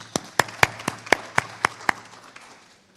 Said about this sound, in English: One more round of applause for Dr. Oseltine.